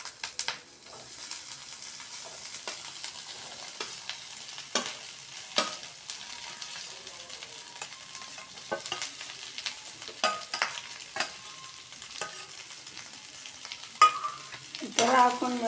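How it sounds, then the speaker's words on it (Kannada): Egg and onions fry in a pan with a steady, fairly quiet sizzle, broken by intermittent spoon scrapes and stirring taps throughout, with no voices. "ಈ ಥರ ಎಲ್ಲ ಫ್ರೈ ಆದಮೇಲೆ ಸಪ್ರೇಟಾಗಿ ಇಟ್ಟಿರೋ ಎಗ್ನ ಹಾಕ್ಕೊಳ್ಳಿ ಇದಕ್ಕೆ."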